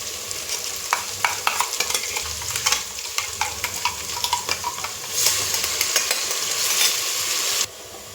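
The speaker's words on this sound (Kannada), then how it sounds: "ಶುಂಠಿ ಬೆಳ್ಳುಳ್ಳಿ ಪೇಸ್ಟಿಂದ ಹಸಿ ವಾಸನೆ ಹೋಗುವವರೆಗೂ ಎಣ್ಣೆಲಿ ಫ್ರೈ ಮಾಡಿ" Ginger garlic paste fries in hot oil with a steady close sizzle, broken by repeated scraping stirs of a spoon against the pan and a louder burst of sizzling near the end.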